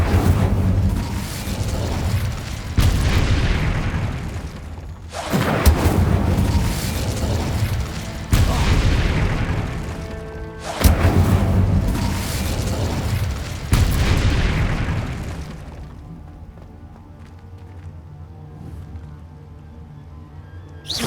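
Fiery Incendio spell blasts in the video game Hogwarts Legacy go off as a series of loud, booming bursts, roughly five in a row every two to three seconds, before fading into a quieter rumbling tail.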